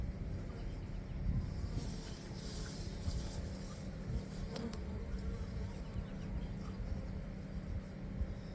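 Honey bees buzz steadily around a newly set-up backyard hive, a dense, continuous hum with individual insects droning close to the microphone, no talking.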